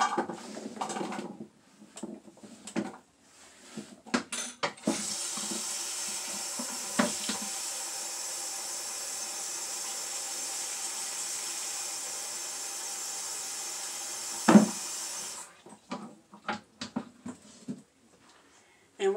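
Tap water runs steadily for about ten seconds as potatoes are rinsed in a pot in a home kitchen, framed by brief clatter and handling noises, with speech nearby.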